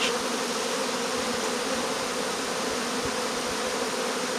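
Honey bees buzz steadily around hive frames during an early-season build-up inspection, a dense, continuous droning hum that fills the whole stretch at close range with no voices.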